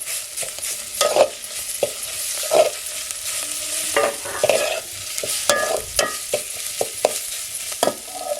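Browned garlic and goda masala sizzle in a pan on a wood-fired stove, with repeated loud scraping stirs over a soft frying hiss and no voices.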